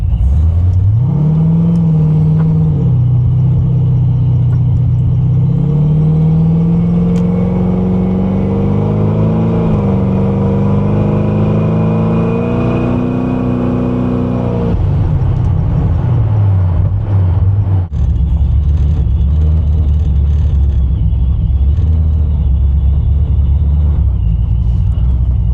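Car being driven hard, its engine revving up through a long climbing pull, then dropping to a lower rumble. It is loud and close throughout, with no talk over it.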